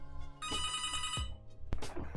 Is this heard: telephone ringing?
yes